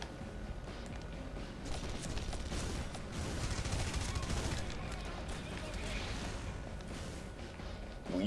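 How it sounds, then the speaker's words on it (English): Dense, continuous gunfire and explosions from the video game Red Faction: Guerrilla, a loud, unbroken barrage of shots and blasts filling the whole stretch. "Boy, who's shooting me?"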